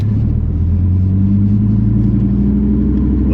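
Deep, steady exhaust rumble from a 2017 Dodge Viper GTC ACR Extreme under acceleration, a loud continuous low drone heard close with no talking.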